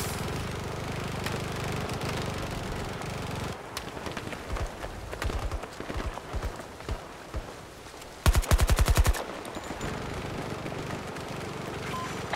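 Battlefield 2042 Hazard Zone combat gunfire: bursts of rapid automatic shots over a dense, noisy battle background, with an especially loud, fast rattling burst near the end.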